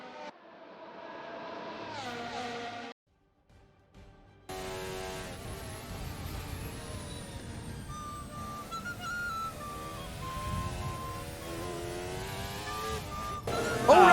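An F1 race car spins in the F1 2022 video game during a Brazil race: steady engine whine with shifting pitch, a brief quiet break, then a harsher engine roar with faint tyre noise, fairly loud throughout.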